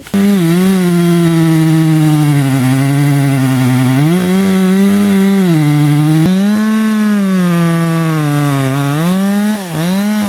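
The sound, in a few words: chainsaw cutting wood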